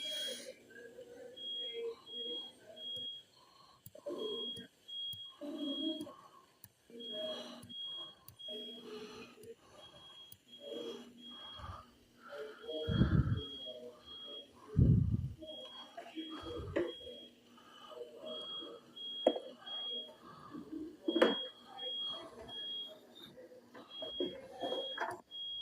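A neighbor's smoke alarm in a hallway sounds a steady series of short, high beeps that repeat through the whole stretch, mostly under people talking and some louder thumps.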